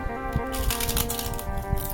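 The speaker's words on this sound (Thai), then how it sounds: "ฟังเสียงกรอบๆครับ" Close, crisp crunching as fried dried frog skin is chewed, with irregular crackly bursts over a faint background hum.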